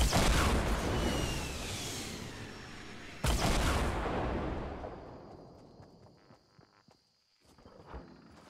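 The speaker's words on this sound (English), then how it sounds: "Rockets from the building." Rockets fired from a building in Fortnite, a loud roaring blast with rumbling that swells again after a sharp second impact, then fades into quieter scattered clatter.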